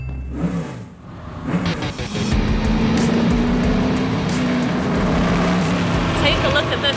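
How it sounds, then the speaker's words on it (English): A downforce race car with an upside-down wing speeds around a track, its engine building from a quiet start into a loud sustained roar with rising pitch, heard alongside a narrator's voice. "It's incredible to see how the aerodynamics allow this car to just fly around this track with ease."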